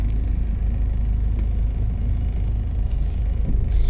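Road traffic near Taal Volcano during its eruption, with car engines making a steady, loud, low rumble that holds throughout without a break.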